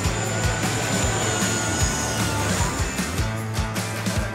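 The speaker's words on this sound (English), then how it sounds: "an enormous jet flies straight over your head on final approach as it gets ready to land just meters above you" A large jet airliner on final approach to land at Corfu passes low overhead, a loud roaring engine rumble with a high whine that stays heavy and steady throughout.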